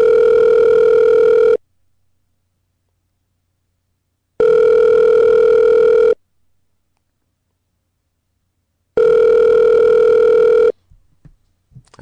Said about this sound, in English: if you listen really closely, you can hear music in the background of the ringing